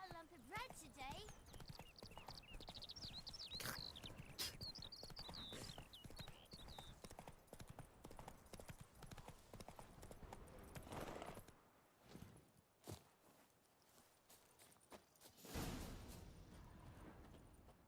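Horse hooves clip-clop steadily in The Witcher 3, a rhythmic trot with music and ambient game sound, fading out partway with a few scattered thuds near the end.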